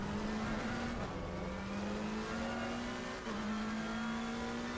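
A BMW race car engine in Assetto Corsa Competizione during a community race at Monza holds a loud, sustained drone with small pitch shifts through gear changes and throttle, and no talk.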